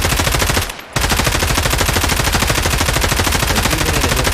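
Fully automatic M4 rifle fire from the hip in the game Escape From Tarkov, a loud continuous rapid burst that breaks off briefly and then resumes as a steady stream of shots with no voices.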